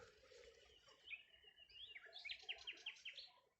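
Nightingale sings in scrub, faint and distant, with thin whistles, slurred phrases and a quick repeated series of sharp notes over quiet background hiss.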